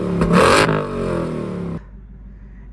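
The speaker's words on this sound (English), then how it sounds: "Here's the different exhaust modes. So you have, this is quiet exhaust." A 2025 Mustang Dark Horse with a Tremec six-speed, exhaust set to quiet mode, gives a short rev that swells and falls away, then the engine cuts to a low hushed idle, close by.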